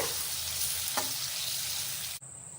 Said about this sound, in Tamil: பட்டர் சேர்த்துட்டு நம்ம ஊற வச்சுக்கிற பன்னீர் சேர்த்துக்கலாம் ஒரு டூ மினிட்ஸ் போல் மட்டும் நல்லா ஃப்ரை பண்ணி எடுத்துக்கோங்க